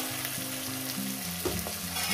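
Chopped onion frying in a pan of oil for a fish curry, a steady close sizzle with faint stirring, no voices.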